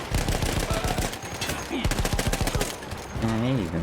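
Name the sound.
mounted machine gun firing in the video game Battlefield 1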